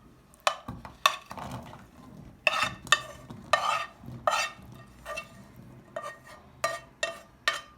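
Chickpea chaat is tipped and scraped from one vessel into a bowl, a series of close spoon scrapes, clinks and knocks against the dish in irregular bursts, without talking.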